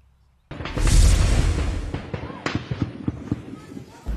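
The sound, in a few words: successive gunshots during clash between military and armed group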